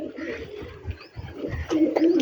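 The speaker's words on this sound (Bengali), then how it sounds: "আমাদের বাড়িতে নিজস্ব এরকম পায়রা আছে" Domestic pigeons kept at home coo in low, rolling phrases close by, with soft rustling and faint chirps around them.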